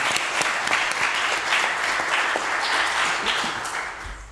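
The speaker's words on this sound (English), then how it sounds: "we owe him our thanks through a round of applause." A congregation at a special church business meeting bursts into sustained applause, a dense, steady wash of many hands clapping together for about four seconds and tapering slightly at the end.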